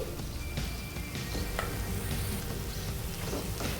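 Chilli powder being stirred into gongura frying in a pan, a soft continuous sizzle with light scraping strokes from the spoon, close and fairly quiet, no voices.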